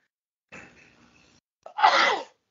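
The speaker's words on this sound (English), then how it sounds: "here comes another sneeze" A person sneezes during a wrestling talk show, with a drawn, moaning inhale followed by a loud, close, breathy sneeze burst.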